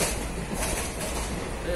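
A train arrives at Amritsar station in Punjab, heard from on board as a steady, fairly loud rumble and rattle throughout.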